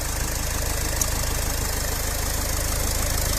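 A Renault Trafic with a 2.0 dCi 115 hp chain-driven diesel engine idles steadily, a close, continuous rattling clatter with a faint knocking pulse and no talk over it.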